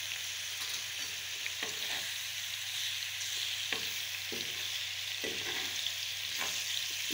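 Tomatoes fry in a pan for tawa kaleji, a steady, soft sizzle with repeated light scrapes and taps of a stirring spoon at irregular intervals, close by and without speech.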